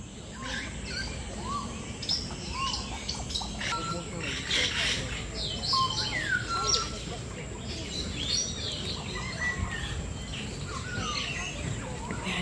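African parrots call in scattered bright chirps and squawks over a steady hiss of outdoor background noise at a Singapore bird park, some near and some further off.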